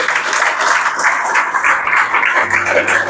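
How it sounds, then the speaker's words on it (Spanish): A church congregation claps loudly during a Spanish-language service, producing a sustained, dense wash of applause that stays strong for the whole stretch, with a low hum entering near the end. "Den un aplauso bien fuerte al Señor"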